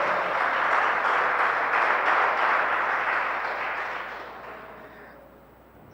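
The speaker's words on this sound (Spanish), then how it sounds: "Y si es grande, denle un aplauso a la gloria de Dios." A church congregation gives a sustained round of applause, a dense wash of many hands clapping together that holds steady, then gradually fades away toward the end.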